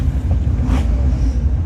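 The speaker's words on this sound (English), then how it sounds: "I can hear that vibrating noise on the engine" A VW T4 van's engine is heard from inside while driving at around 1200 revs, where a fault makes it vibrate, producing a steady low rumble with a droning hum and no talking.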